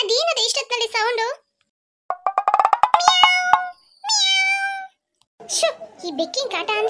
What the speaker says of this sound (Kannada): ಈ ಬೆಕ್ಕಿನ ಕಾಟ ಅಂದ್ರೆ ಕಾಟ